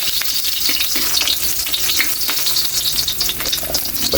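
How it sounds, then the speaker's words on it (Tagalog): Garlic and ginger fry in hot oil, giving a dense, continuous crackling sizzle with scattered pops and spatters, close and loud throughout. "Kayli, mainit na yung mantika. Ilagay na natin yung bawang."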